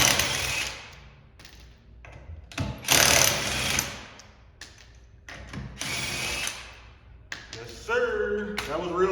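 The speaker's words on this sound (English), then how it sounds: "Got my 21 millimeter, my impact gun from Harvard. We're gonna take them bolts off." Impact gun with a 21 mm socket zipping bolts off a car wheel during a tire repair, several close, buzzing mechanical bursts of varying length with clatter and faint background noise between them.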